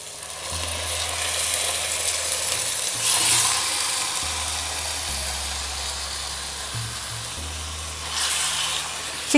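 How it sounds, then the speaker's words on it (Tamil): Chicken pieces hit a pan of softened tomato and onion with a steady, broad sizzle and hiss that swells briefly around the middle and near the end, under a low hum and with no talking. "தக்காளி வெங்காயம் நல்லா வதங்கிடுச்சு. இப்போ நான் இது கூட சிக்கனை சேர்த்துக்கிறேன்."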